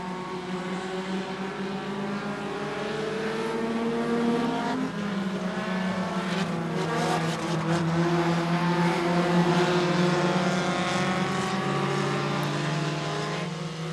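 Short track race cars roar around the track at a Super Short Track Racing Series event, engines droning and swelling as the pack passes by at moderate distance, with no talk.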